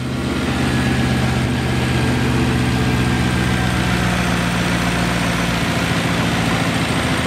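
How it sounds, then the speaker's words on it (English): A 2002 BMW E39 M5 with its S62 V8, cold and idling in a garage with a muffler delete, gives a steady, deep, unbroken rumble from the exhaust, close and loud with no talking. "So the muffler delete makes a little bit of rumble back there, which is great."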